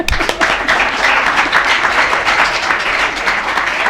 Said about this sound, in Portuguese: Palmas para o primeiro grupo.